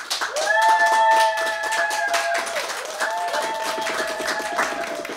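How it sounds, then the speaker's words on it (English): Live studio audience at a music show claps in a dense, continuous round of applause, with a few high whistles over the clapping. "Let's give him a round of applause."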